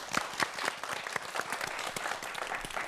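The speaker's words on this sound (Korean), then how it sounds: "박수 부탁드립니다." A lecture audience at a physics talk on network science gives brisk, dense applause, a steady burst of many hands clapping together.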